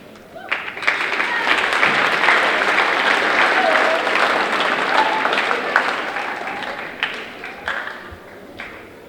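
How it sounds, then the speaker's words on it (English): An audience at a high school Decision Day ceremony gives sustained applause for an award presenter. The clapping swells fast, holds full and steady, then thins to scattered claps near the end. "Please feel free to applaud after each recipient."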